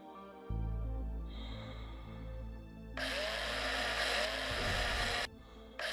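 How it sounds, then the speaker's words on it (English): Mining drill cutting into an aluminium outcrop on an asteroid in the space survival game Breathedge: a loud, sustained mechanical whine and grind that shifts in pitch partway through, with no talk. "Now drill this outcropping of aluminium."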